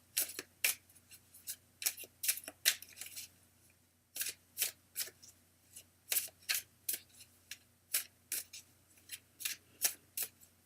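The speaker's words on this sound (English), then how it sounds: "And I'll start shuffling for you now, Talia." A deck of cards is shuffled over and over in quick, crisp bursts with short gaps, steady and fairly faint in a quiet room with no talking.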